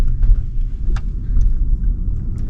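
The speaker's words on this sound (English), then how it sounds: "So the car immediately gets way out. faster off the curb." A 2026 rear-wheel-drive Tesla Model Y pulling away quickly from the curb on a New York City street, heard from inside as a low, steady road rumble with faint tyre and traffic noise.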